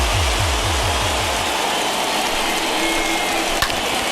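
A packed baseball stadium crowd of over 39,000 at a Cubs at Phillies game roars continuously on its feet, a dense, loud wash of cheering and noise that holds steady throughout.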